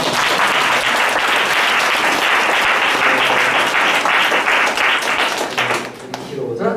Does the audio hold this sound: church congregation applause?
yes